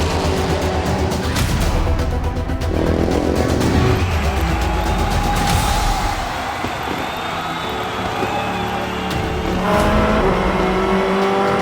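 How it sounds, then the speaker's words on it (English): Race cars launching at the start of the FIA WEC 4 Hours of Shanghai 2019, a loud dense roar of many engines revving and accelerating together, swelling and shifting as the field pulls away toward the first corner. "And it's going to be go! And they go down to the first corner."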